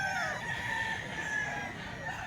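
A fighting cock of Golden Boy and Perfection bloodline gives one long, continuous crow, close and clear, filling the whole brief moment.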